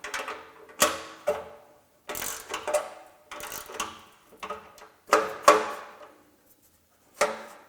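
Ratchet wrench clicking in short bursts while torquing down exhaust header bolts on a Porsche 991 GT3, with metallic ratcheting and clunks separated by brief pauses, close and fairly quiet.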